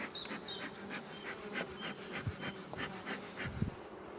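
Buckfast honeybees hum softly at their hive after overwintering in a cellar, a faint, steady buzz with scattered higher chirps over it.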